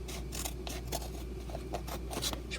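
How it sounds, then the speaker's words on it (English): Scissors snipping through squirrel hide, a series of quick, close crisp cuts in irregular rhythm with faint rasping between snips. "you're just going to want to cut that out"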